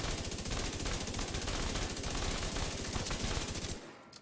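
Sustained rapid automatic fire from a rifle LMG in the video game The Division 2, a dense, loud, unbroken burst lasting several seconds before stopping abruptly, with no talking.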